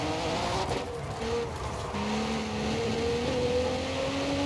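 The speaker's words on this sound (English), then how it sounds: "It's a twin turbo V6. It actually sounds quite good in this game on this car." Cadillac twin-turbo V6 engine in the racing game Forza Horizon 5, revving and shifting steadily with a loud, continuous drone. Tire squeal and road noise run underneath.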